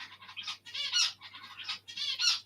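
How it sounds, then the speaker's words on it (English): Small birds chatter nearby in quick bursts of high, scratchy squawks and chirps, rising and falling in short clusters over a faint low hum. "Chit-chatty little birds"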